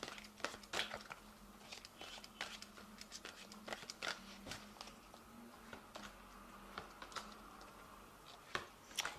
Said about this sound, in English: So I'm going to just draw some cards from the Angel Tarot.